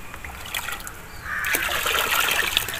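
A mug stirs hydroponic nutrient solution in water, giving a steady trickling, swishing liquid sound that swells slightly louder midway and continues evenly.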